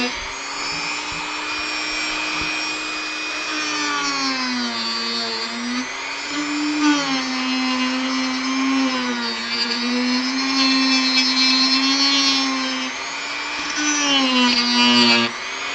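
Dremel rotary tool grinding and carving a wooden cobblestone base: a steady high-pitched motor whine that dips and rises in pitch under load, continuous and close for the whole stretch, no speech.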